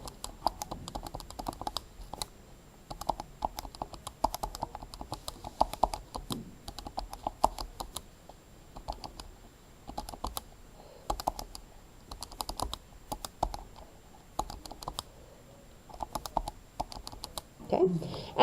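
Calculator keys are pressed in quick, irregular runs of light, close clicks while values are entered on a graphing calculator's statistics editor, with a low background voice at times.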